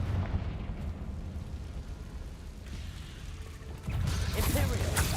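Confringo fire spell blasts in Hogwarts Legacy, a dense rumbling roar of explosions that swells into a louder, crackling burst near the end.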